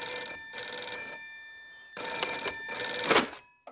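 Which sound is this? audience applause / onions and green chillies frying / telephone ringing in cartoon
telephone ringing in cartoon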